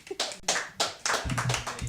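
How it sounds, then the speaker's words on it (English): Several hands clap in short bursts at a comedy show, a handful of sharp separate claps rather than full applause, fairly close and brief. "Y'all can clap for me"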